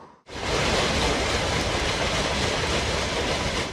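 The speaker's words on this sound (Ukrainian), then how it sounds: "У цей час внизу якраз приїжджав вантажний потяг." A freight train rolls past directly beneath a railway footbridge, a loud, steady roar of wagons and rumbling wheels that swells in quickly and holds close and constant throughout.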